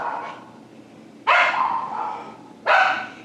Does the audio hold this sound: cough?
no